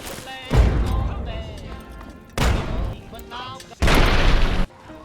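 Frag grenade blasts in Fallout 3, three deep booming explosions spaced a couple of seconds apart, each with a rumbling tail, mixed with game sounds and a voice speaking between them.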